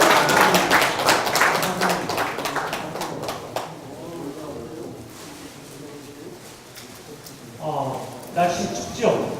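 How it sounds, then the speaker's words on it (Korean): Audience applause for a guest lecturer at a Yeosu community talk: a few seconds of brisk clapping that thins out, then a voice speaks over the room. "큰 박수 주시기 바랍니다"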